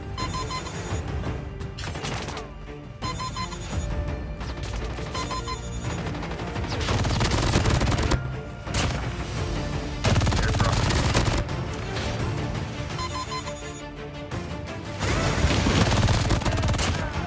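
An MG 42 machine gun fires in an online shooter, long loud bursts of rapid automatic fire broken by short pauses, with ringing alert tones cutting in between bursts.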